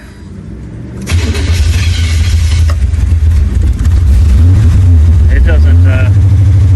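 A Ford Tempo parts car, red, cranks briefly after a short spoken word, then catches and roars into a loud, steady idle with some revving. Voices talk faintly over it.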